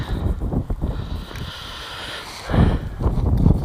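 Gusty wind buffets a microphone on a windy day at a model plane flying field, rumbling in uneven bursts that swell louder toward the end, with no talk.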